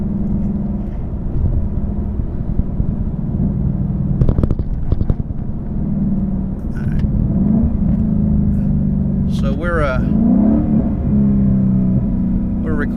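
A modded Ford Mustang rental car accelerates with a loud, steady exhaust drone and rumble inside the cabin, while people talk over it.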